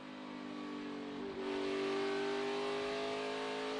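Ford Mustang NASCAR Cup race car off the throttle at a 2019 500-mile race, a steady engine drone that swells slightly and holds at a constant pitch, heard at a distance with no talk.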